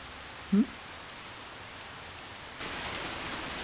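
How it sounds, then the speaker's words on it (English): Rain shower in the visual novel Charade Maniacs, a soft steady hiss of falling rain that swells louder partway through, with one brief low thump early on and no voices. "A sudden shower?"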